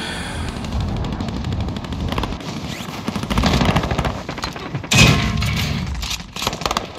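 Rapid bursts of bombs and gunfire in a shooter video game, loud and dense with rattling shots and a heavy blast near the middle, alone without talk.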